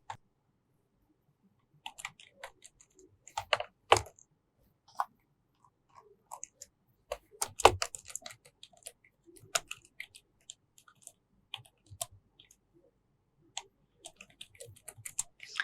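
Java code being typed on a computer keyboard makes sparse, irregular soft clicks, quiet and close, with pauses between short bursts and no voices.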